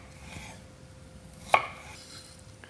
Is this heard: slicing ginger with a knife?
yes